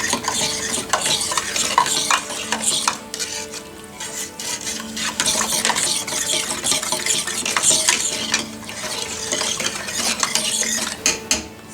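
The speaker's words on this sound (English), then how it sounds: "So I'm just dissolving the sugar." Sugar stirred by hand into a blueberry wine mixture in a pot, with a continuous scraping and clinking swirl that rises and falls in steady rhythm, close and fairly loud.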